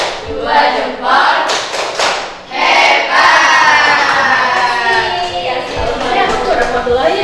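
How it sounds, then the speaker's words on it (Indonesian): A crowd of children claps in applause with shouts and cheers mixed in, loud and dense, dipping briefly before surging again, while an adult voice talks over it. "Sekali lagi tepuk yang hebat"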